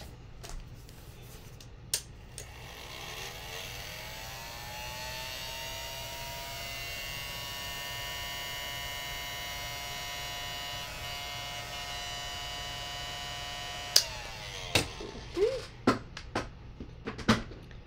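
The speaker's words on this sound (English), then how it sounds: "Let me grab my heat gun for this." A heat gun drying acrylic paint for a beginner painting, running as a steady, fairly loud whine that ramps up near the start, holds for about twelve seconds, then cuts off, with a few sharp clicks and taps afterward.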